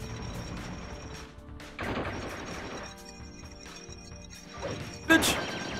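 Bursts of gunfire and impact crashes come from the Shadow the Hedgehog video game, with sharp hits clustering irregularly over a low background score. A loud blast lands near the end.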